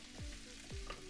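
Butternut squash rice cooking uncovered in an open pan, with a steady soft sizzle and two sliding scrape-like sweeps, probably from stirring, heard close and alone.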